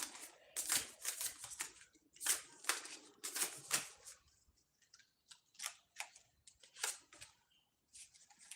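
A new deck of playing cards is shuffled up close in a quiet room. The sticky cards give a series of crisp riffling bursts and flutters in irregular runs, each a second or so long, with short pauses between them.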